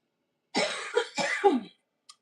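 Several close, loud coughs from one person in rapid succession, a harsh burst followed by two or three more hacking coughs over about a second, then a faint short catch of breath after a pause.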